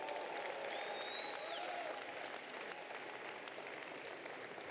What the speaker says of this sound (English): let's just have a round of applause for all the people who fought and won for the cause of equality.